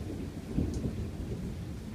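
A sharp, close thunderclap cracks and rumbles during a nighttime electrical storm, with rain hissing steadily underneath.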